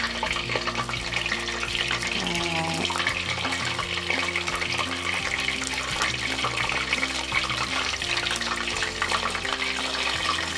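Tap water runs steadily into a kitchen sink while pots, pans and utensils are washed, a continuous fairly loud rush with no talking over it.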